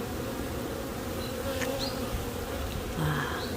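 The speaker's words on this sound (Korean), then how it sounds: "이상한 곤충들이 날라와 지들이 무슨 꿀벌이냐 하면서 꿀벌 속에서 꿀을 훔쳐 먹고 있죠." Honeybees and other odd insects swarm around a hive raiding honey, a dense steady buzzing close by with occasional individual insects whining past louder.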